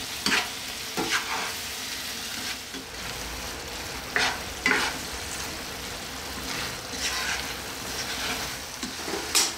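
Prawn curry simmers and sizzles in a pan, with a steady frying hiss broken by several short, close scraping stirs spaced through the stretch.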